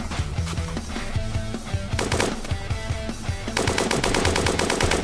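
Rapid automatic AK rifle fire in the video game Dusty Trip, with repeated bursts of close, loud shots in quick rhythm that grow denser and more continuous toward the end.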